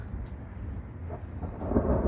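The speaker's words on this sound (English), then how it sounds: "sorry about the lightning" Thunder rolls during a lightning storm over a garden with a pond, a low rumbling swell that builds slightly toward the end, heard alone without talk.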